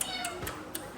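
A cat meows on an upper floor of a building while someone searches for it, giving short, fairly close cries over a steady background hiss.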